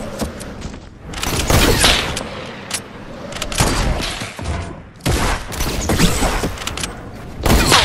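Sniper rifles fire in a video game, loud sharp shots cracking in rapid clusters with heavy booming tails, nearly continuous bursts broken by brief lulls.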